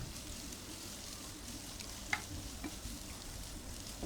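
Thin-sliced broad beans fry in oil in a pan, giving a steady, faint sizzle with a couple of soft scrapes from stirring; no one speaks.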